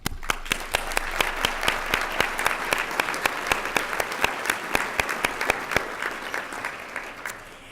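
Applause from an audience at a regional assembly luncheon, steady and dense for several seconds with sharp individual claps standing out, loud and close, tapering off at the end.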